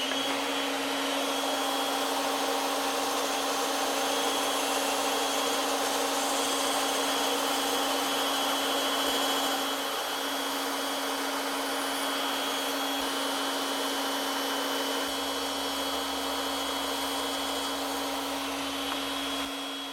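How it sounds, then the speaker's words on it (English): A steady, loud mechanical whine with a constant hum runs without a break, like a bandsaw running and cutting through wood, with no voices. "now I'm ready to cut those out using my bandsaw"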